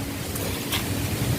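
Strong wind over a coastal fishpond buffets the microphone, a steady roaring rush with low gusty rumble and no voices.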